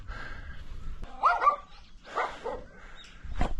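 Small dogs, at least eight, in the backyard of a house on a hillside street in Busan: a few scattered yips and barks at moderate distance, separated by quiet gaps.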